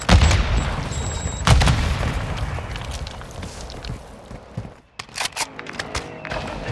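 A Semtex grenade detonates in Call of Duty Warzone 2, a loud close blast near the start followed by a second burst, then scattered game noise, footsteps and distant shots fading toward the end.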